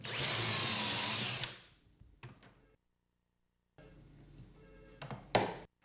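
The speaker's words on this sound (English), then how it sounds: "I pocket hole 3 pocket holes into this end board" A drill drives a Kreg step bit into an end board to make pocket holes, whining steadily for over a second before winding down, then a pause, a few light knocks and another short burst of drilling with a thump.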